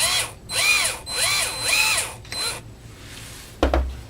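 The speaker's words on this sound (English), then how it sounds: "I'm going to use my power drill to try to pull that bolt loose" A power drill whirs in three or four short bursts, each rising and falling in pitch, while loosening a bolt on a Bakelite sewing machine foot control. A sharp clunk follows after a pause, all close up.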